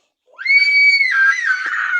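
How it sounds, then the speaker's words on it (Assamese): A young boy screams loudly and shrilly in a home setting, a single sustained high-pitched cry lasting nearly two seconds that wavers and breaks near the end. "ইমান জোৰছে চিঞৰিছে চাচোন হেই।"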